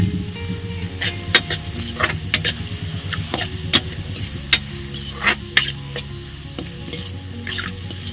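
Turmeric and salt sizzling in a hot tempering of oil, made while cooking banana curry in a village kitchen, with a steady frying hiss and intermittent stirring scrapes and clinks of a spoon against the pan.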